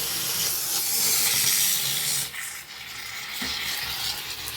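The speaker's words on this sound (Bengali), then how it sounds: "এবার সুন্দর করে এগুলো ভেজে নেব তেল দিয়ে, একদম অল্প তেলে ভাজবো বন্ধুরা" Oat-stuffed parathas frying in a little oil on a tawa give off a steady, close sizzle and hiss that dips briefly midway before continuing, with no speech.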